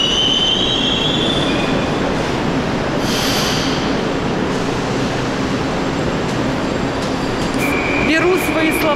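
A Moscow metro train runs with a steady loud rumble and brief wheel squeals, heard from aboard throughout, with faint voices under the noise.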